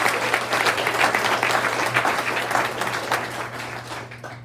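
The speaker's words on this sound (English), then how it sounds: "So let's give them a round of applause." Room-filling applause at a Rotary Club meeting honoring newly named officers, a dense, even round of clapping from many hands that holds steady and tapers slightly toward the end over a low hum.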